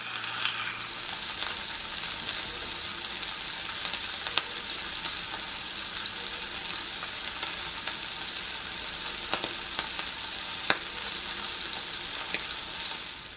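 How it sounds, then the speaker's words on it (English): A sausage patty fries in a pot as part of a loaded McGriddle, giving a steady, even sizzle and crackle with a few small pops throughout, with no voices. "And then I have my sausage patty. Just gonna throw that in the pot as well."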